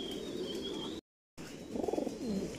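Racer pigeons on a large breeding farm, a faint hum of birds broken by a brief dropout, then one clear rolling coo close by.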